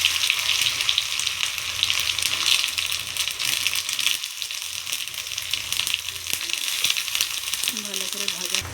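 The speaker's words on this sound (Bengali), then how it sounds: "ওই তেলে আমি আলুগুলো ভালো করে ভেজে নেব।" Potatoes fry in hot oil in a kadai, a dense, steady sizzle with occasional clinks of a utensil stirring, close and continuous.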